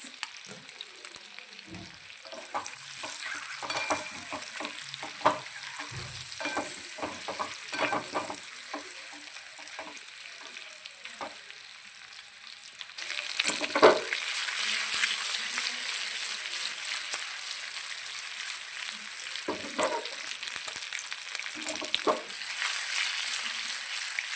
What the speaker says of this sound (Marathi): लसूण बारीक कट केलेले त्याची आपण अंड्यासोबत फ्राय करून घ्यायचं